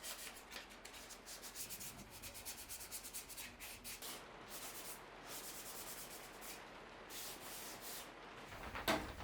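Sanding wood smooth by hand for a furniture project, a continuous scratchy rubbing rasp with rhythmic back-and-forth strokes, close up and fairly quiet, with no talk.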